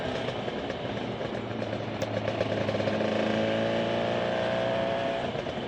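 A Suzuki RG400 motorcycle engine drones continuously at an even pitch, rising slightly in the middle, with no voices.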